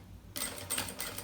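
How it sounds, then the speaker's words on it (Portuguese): A sewing machine stitches through a bag strap of synthetic material, a quiet lead-in giving way to a steady mechanical run with repeated surges, close and fairly loud. "Passo aqui a costura."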